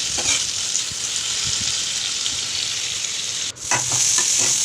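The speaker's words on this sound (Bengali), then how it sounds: "একটু ভালো করে নাড়িয়ে চাড়িয়ে ভালো করে ভাজা করে একটা আলাদা পাত্রে তুলে নেব।" Prawns sizzle and crackle steadily in hot oil in a pan for a prawn and Malabar spinach dish, with brief scraping from stirring and a short dip in the sizzle near the end.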